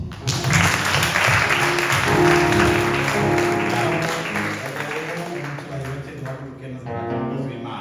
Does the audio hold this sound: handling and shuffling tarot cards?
no